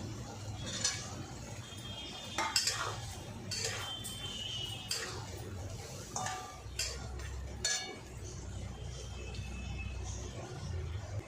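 Rohu fish head curry with potatoes being stirred in a pan as tomato goes in, metal utensil clinks and scrapes recurring irregularly over a steady background, with some speech.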